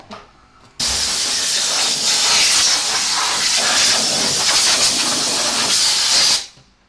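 Engine cleaner sprays onto a BMW E36 engine in one long, loud, steady hiss lasting several seconds, close up, starting and stopping abruptly.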